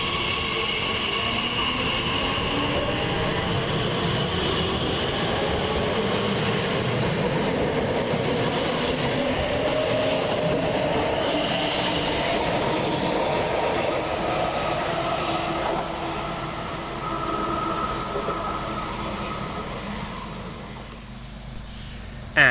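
Class 345 TfL Rail electric train pulling out of Gidea Park station on a Liverpool Street to Shenfield service, a steady rumble and rising motor whine rolling past near the platform before fading.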